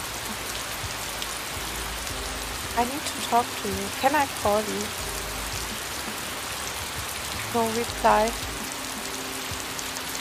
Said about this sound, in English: trying to stay out of the rain as I typed a message.